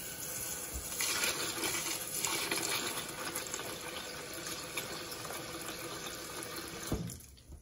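Water runs and splashes steadily for several seconds, close and moderately loud, during preparation of tiger nuts as carp bait, then cuts off abruptly near the end with a brief clatter.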